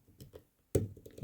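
Small metallic clicks from a Van Lock padlock being picked under heavy tension, a few faint taps followed by one sharper, louder click near the end, close up and with no talking.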